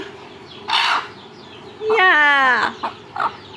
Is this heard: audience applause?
no